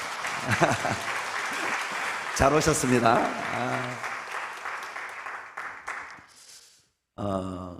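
Someone speaks, then a church congregation breaks into sustained applause that swells and fades over several seconds before a voice returns.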